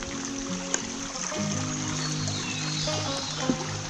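Destruction Brook flows beneath a small footbridge at an old mill site, a soft, steady trickle and gurgle of water with a couple of faint clicks, quiet and close, with no talk.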